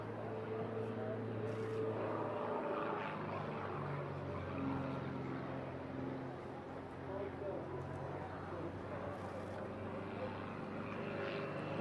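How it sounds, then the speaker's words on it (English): A T67M Firefly aerobatic propeller aircraft flies a display at the Eastbourne airshow, its steady engine drone carrying on throughout with a commentator talking over it. "T67M Firefly, as you can see, fully aerobatic and is fitted with everything it needs to display for you today"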